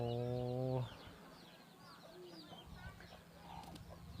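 Chickens cluck and call in a Lao Theng hill-tribe village, with several short bird calls scattered through steady outdoor ambience after a brief loud tonal sound at the start; no talking.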